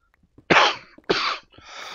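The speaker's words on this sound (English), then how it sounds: "Oh, excuse me. My cough is back." Two sharp, harsh coughs close to the mic, a brief pause between them, trailing into a breathy rasp.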